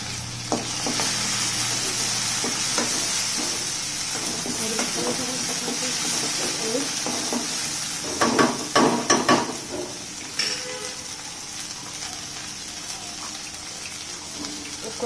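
Chopped tomatoes fry in a hot pan with a steady, bright sizzle while being stirred, a cluster of spatula scrapes and clicks rising near the middle before the hiss settles back to an even crackle.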